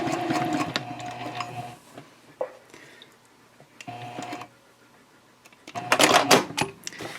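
Sewing machine back stitching a tote bag seam, in short mechanical bursts of rapid stitching separated by quiet pauses, with scattered clicks and handling noise nearby.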